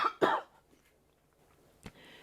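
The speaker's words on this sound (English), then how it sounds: "you watch me now cough all the way through the rest of this video" A single person coughs twice in quick succession at close range, followed by a quieter throat-clearing cough near the end, in an otherwise quiet indoor room.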